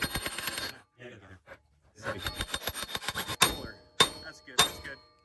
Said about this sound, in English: we'll hit it with a hard ball peen hammer